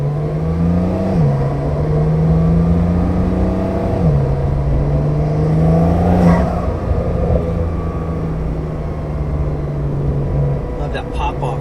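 Up close from inside, a car's engine drones and rises through the gears with audible shift dips while accelerating hard, and a person talks over the steady engine noise.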